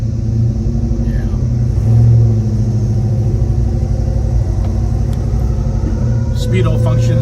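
A 1967 Chevrolet Chevelle 396 convertible's V8 idles steadily with a deep, loud rumble and a brief swell in revs, while someone talks over it.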